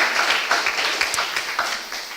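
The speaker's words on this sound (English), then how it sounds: "let's have a round of applause for all the 6 teams once again" An audience at a pediatric innovation pitching event gives a round of applause for the teams, with steady, moderately loud clapping running through the short stretch.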